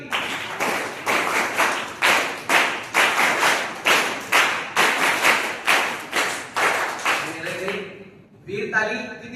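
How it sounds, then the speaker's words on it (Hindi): An audience at a religious talk doing vīr tālī, a group clap in repeated sets of three, loud sharp crowd claps in a steady rhythm that stop near the end, followed by a voice. "एक ताली होती है वीर ताली।"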